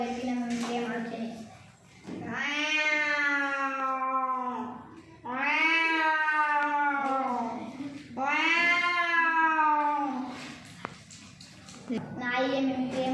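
A child vocally imitates fighting cats, producing three long, wailing, harmonic yowls that rise and fall, separated by short pauses, with a fourth starting at the end; loud and close, no other talk.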